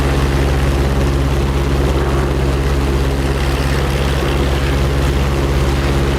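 A steady P-47 propeller aircraft engine idles continuously in a flight simulator game, a loud low drone with even harmonic hum and no pauses.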